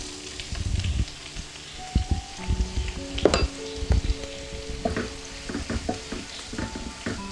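Thinly sliced onions sautéing in hot coconut oil for a Kerala milk chicken curry, a crackling sizzle with frequent spoon scrapes and clinks against the pan, close and moderately loud.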